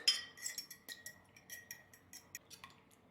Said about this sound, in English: Beat up the eggs.